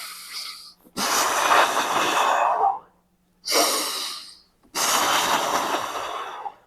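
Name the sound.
deep breathing during an isometric ankle contraction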